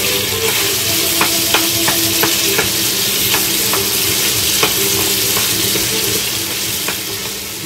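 Beef strips sizzle loudly in hot oil for lomo saltado, a steady dense frying hiss broken by repeated sharp spatula scrapes and stirring clicks, close and continuous with no talking.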